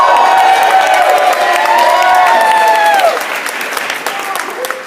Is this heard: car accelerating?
no